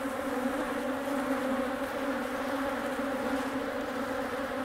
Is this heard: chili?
no